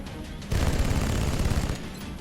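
Suppression fire in the turn-based tactics game XCOM with the Long War mod comes as a sudden sustained burst of rapid automatic shots. It is loud and close and lasts over a second before easing off.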